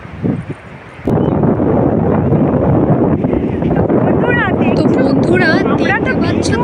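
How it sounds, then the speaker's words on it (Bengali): Wind and sea waves on Tajpur beach roar steadily after a sudden start, with heavy wind buffeting the microphone, the surf close and loud, and voices of children calling over it. "আমি প্রাণ খুলে সমুদ্রের ঢেউ আর বাতাসটা উপভোগ করছি।"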